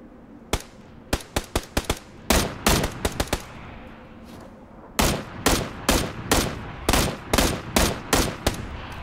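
Bursts of video game gunfire in PUBG, loud sharp shots fired in irregular clusters, some rapid strings and some spaced single cracks, with a brief lull midway before dense volleys resume.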